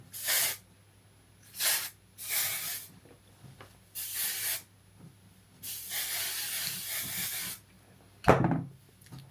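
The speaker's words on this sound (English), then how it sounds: "I'm going to spray some of this on it." Several short hissing bursts from an aerosol can of hair product, with pauses between, then one longer spray and a soft knock at the end.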